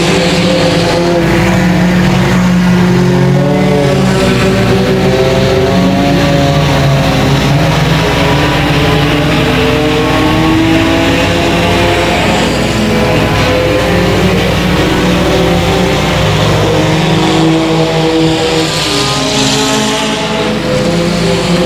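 Race cars at 281 Speedway roar wide open on the oval, several engines layered into a loud, sustained, pitch-shifting drone that stays steady and close throughout, without any talk.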